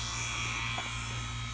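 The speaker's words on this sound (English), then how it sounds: "so we have to turn off the vacuum pump" A vacuum pump evacuating a vehicle's R-134a air-conditioning system drones with a steady mechanical motor hum, continuous at moderate level, unchanging, with no voices.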